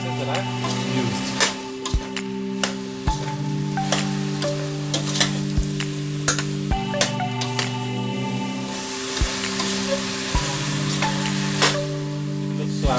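Beef and vegetables with sauce tossed in a big pot, a steady sizzle broken by regular knocks and scrapes of the utensil against the pot, close and fairly loud.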